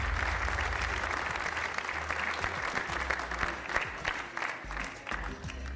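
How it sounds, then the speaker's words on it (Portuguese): Studio audience applause on a Portuguese television game show, a dense, steady wash of clapping that holds at an even, loud level for the whole stretch with no voices over it. "Então o Eduardo volta para o da Flor com este aplauso."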